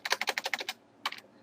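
Quick typing on a computer keyboard: a close, crisp run of about eight keystrokes, a short pause, then a second brief burst of clicks in a quiet room.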